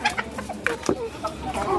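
Native deshi hens clucking lively in their coop beside a nest with eggs, short choppy clucks and squawks tumbling over one another at close range, with a sharper call in the middle and no speech.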